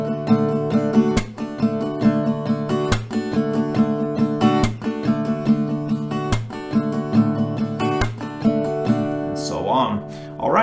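Acoustic guitar strums the rhythm of a song in a loud, even down-up pattern, with sharp claps landing at regular intervals and a brief fade at the end.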